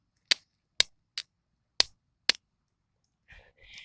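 Jumper cables on a lawnmower battery arc under high current, giving five sharp, loud snapping cracks spaced about half a second apart, followed by a softer faint rustle.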